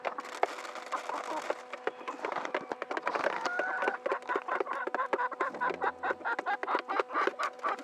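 Chickens peck and scratch at black soldier fly larvae on a metal pan, giving rapid irregular taps and clicks close by, with soft clucking and bird calls mixed in.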